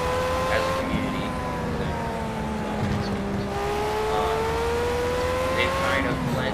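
A Formula A open-wheel race car engine in the racing game Project CARS at the Nurburgring gives a loud, continuous high whine that slides down in pitch, then climbs again through gear changes.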